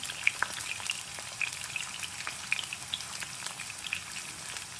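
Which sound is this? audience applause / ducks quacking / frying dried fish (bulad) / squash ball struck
frying dried fish (bulad)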